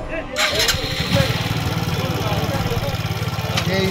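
A motorcycle engine runs steadily at a river ghat while the bike is loaded onto a boat, with a loud, even mid-low rumble and a brief rev near the start, under voices talking nearby.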